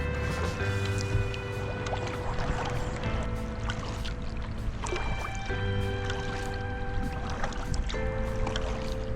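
A kayak paddling on Newport River, with soft water swishes and drips from the paddle strokes over steady flowing water, while tonal hums and faint outdoor sounds run underneath.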